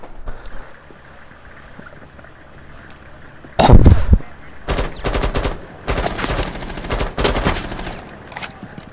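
Gunfire in Rainbow Six Siege rings out in loud, close bursts: one heavy blast followed by several rapid volleys of shots, with a quiet stretch of game ambience before them.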